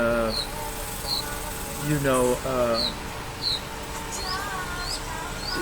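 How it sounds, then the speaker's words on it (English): Outdoors on an overcast morning, high-pitched cricket chirps repeat at a steady rhythm while birds sing and call nearby. "the birds are chirping, the crickets are cricketing"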